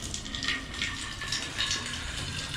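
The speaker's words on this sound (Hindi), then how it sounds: "पानी देता हूँ तुम्हें" Water is poured in a home: a steady, moderately close gush of flowing liquid runs continuously for a couple of seconds, like filling from a tap, with no voices over it.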